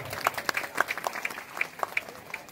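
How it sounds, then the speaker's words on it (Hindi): Applause from the audience at a World Adivasi Day gathering in Lavan, Baloda Bazar, a sparse, uneven patter of individual claps at moderate distance, fairly faint and without talk. "तो एक बार मुकेश भाई पर तालियां हो जाए जो।"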